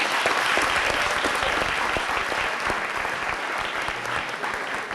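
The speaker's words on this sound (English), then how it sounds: "I think the food service deserves a round of applause because that meal was amazing." A room of guests at a 1998 awards night applauds the food service with a full, continuous round of clapping that stays strong and even, tapering only slightly at the close.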